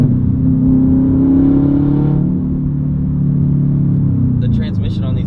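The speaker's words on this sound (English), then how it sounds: "you can hear the air coming out of the turbo like right over here in the passenger seat" Stock Subaru WRX STi engine droning steadily from the passenger seat while driving, a loud low rumble that eases off after a couple of seconds, with faint turbo air whooshing near the end.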